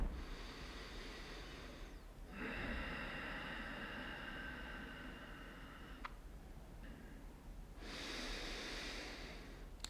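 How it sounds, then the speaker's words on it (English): Slow, deep breathing during a yoga flow, with long audible inhales and exhales alternating close to the microphone, each drawn-out breath lasting several seconds over a soft steady background hiss. "inhale and exhale"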